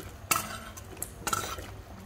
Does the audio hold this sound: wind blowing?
no